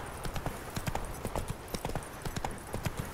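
Horse hooves clip-clop steadily on a path during a ride in The Witcher 3, with a quick, regular beat against a dense background of game ambience.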